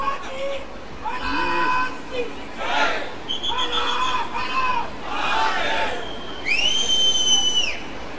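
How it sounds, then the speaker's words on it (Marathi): A packed open theatre crowd roars with chanted slogans and shrill whistles, rising and falling in waves, with long piercing whistle tones near the end and loud, continuous crowd noise throughout. "बघा, टाळ्या शिट्ट्या घोषणा चालू आहेत"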